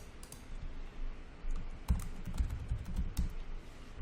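Typing an email and password on a computer keyboard, heard as a quiet run of irregular key clicks and taps that grows busier partway through, with no voices.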